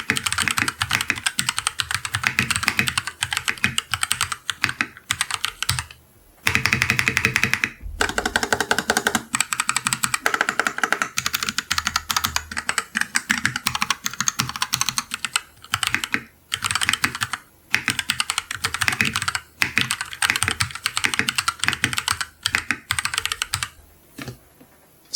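Rapid typing on a KLIM Shift mechanical gaming keyboard with Brown switches, close and clear, with dense bursts of keystrokes broken by short pauses.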